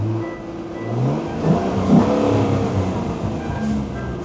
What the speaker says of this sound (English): Listen to the sound of that, that V6 cyclone